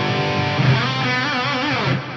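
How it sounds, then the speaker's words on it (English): Electric guitar played through a Fractal FM3 with Echo Hall reverb and a big greasy detune, a thick, wavering chorused chord ringing out alone for about two seconds. "So this is the Echo Hall together with this big greasy detune."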